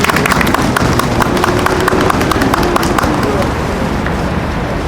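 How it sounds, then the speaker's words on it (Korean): Audience applause at a Thursday candlelight prayer service held for the reinstatement of SsangYong Motor workers: a crowd claps fairly loudly, the dense claps falling into a steady, rhythmic beat that continues throughout. "여러분 큰 박수로 격려해 주시기 바랍니다"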